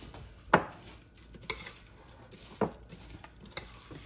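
A spoon scraping and clinking in a bowl as melted butter topping for a vegetable casserole is mixed, with a few quiet, separate knocks and taps spaced across the stretch.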